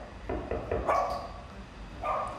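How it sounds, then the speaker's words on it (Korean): Dog barking during knock-sound training, a few short yips and barks close by, with a small pause between bursts. "짖어도 괜찮아요."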